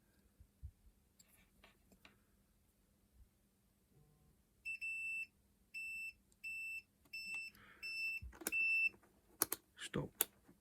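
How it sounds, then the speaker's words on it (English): Electronic beeping from a Nintendo Switch dock repair bench, a run of about eight evenly spaced, steady high tones repeating roughly every half second, close and clear, with faint clicks and handling noise around them. "Stop bloody beeping at me."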